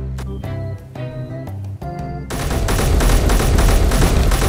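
Gunfire in the Space Engineers video game, with dense rapid automatic fire erupting loud and sustained after a stretch of melodic tones, continuing to the end.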